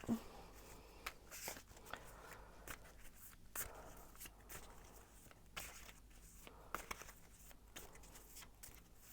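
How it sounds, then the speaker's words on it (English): Soft flicking and riffling of tarot cards being shuffled, in quick uneven bursts close by, with faint rustling between. "shuffle and see what the cards have to say"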